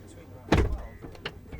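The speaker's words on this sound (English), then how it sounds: "and the door will close for you" Rear-hinged suicide door on a 2011 Rolls-Royce Ghost with a 6.6 V12, closing automatically at the push of a pillar button: one soft thud near the mic, then faint motor whirs and light clicks.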